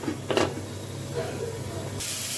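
Eggplant fries in a covered pan, a constant muffled hiss with a brief louder burst early on and a brighter rush of sizzle toward the end.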